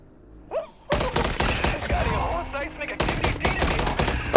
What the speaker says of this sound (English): Oh, we're actually getting shot at by other people.